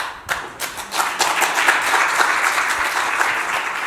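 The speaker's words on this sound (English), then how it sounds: "Can we have a round of applause, please?" Conference audience applauds at the close of a threat-hunting security talk, a dense steady roll of many hands clapping that swells in quickly and holds loud for several seconds with no talk over it.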